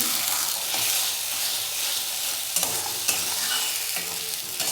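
Spice masala for a Bengali raw fish curry frying and being stirred in a pan, a steady close sizzle with scraping strokes of the spoon and a few sharper clacks.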